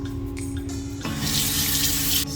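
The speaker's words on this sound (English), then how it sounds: "just gonna use soap and water to wash off my face" Water runs from a sink tap while someone washes their face with soap, a faint trickle at first and then a louder, steady gushing stream that cuts off abruptly near the end.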